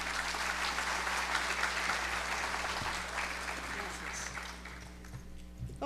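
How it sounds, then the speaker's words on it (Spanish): Applause from an audience at a panel on talent management in the civil service greets a speaker, a steady broadband clapping that fills the hall for several seconds over a low hum, gradually thinning toward the end. "Por favor, demos un aplauso a la señoría."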